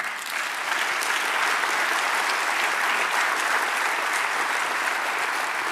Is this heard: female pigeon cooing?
no